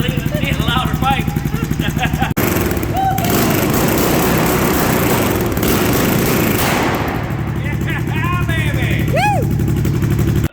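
A Suzuki 650 motorcycle with a modified exhaust pipe idles and revs loudly up close, a throaty popping rumble that swells into a roaring burst midway, with a person talking over it throughout.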